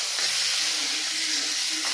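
Vegetables fry in a pan for a small-fish chorchori, giving a steady, loud, close sizzling hiss with no speech.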